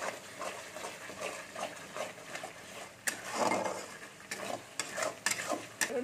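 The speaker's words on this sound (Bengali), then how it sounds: "দিয়ে একটু ভালো করে নেড়ে নেবো" A spoon stirs spices frying in oil for a vegetarian chana masala with leaves added, cooked in a village kitchen. The scraping is steady and rhythmic over a soft sizzle, with no voices.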